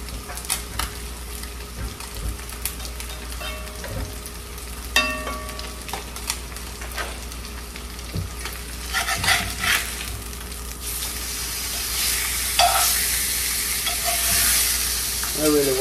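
Pasta ingredients sauteing in a frying pan, a steady sizzle broken by scraping stirs and light utensil clinks against the pan, close and fairly loud, with no talking.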